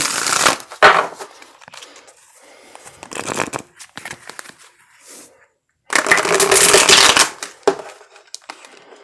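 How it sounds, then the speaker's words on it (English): Tarot and oracle cards are shuffled in several bursts of quick riffling and slapping, close and crisp, with quiet pauses between. "I'm hearing one more shuffle"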